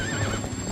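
Ghostly horse whinnies from Zelda: Twilight Princess, a short wavering neigh with clip-clop hooves beneath, loud and close, with no talk.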